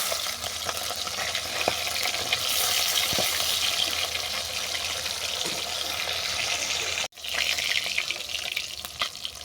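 Katla fish frying in hot mustard oil, turned over to brown, gives a loud, steady, close-up sizzle with faint spatter and a brief cut near the end.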